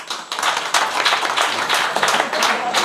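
Audience clapping in a crowd at a Marathi kirtan devotional gathering, a dense, steady patter of many hands kept up for several seconds with no voice over it.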